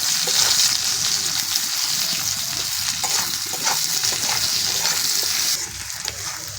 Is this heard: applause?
no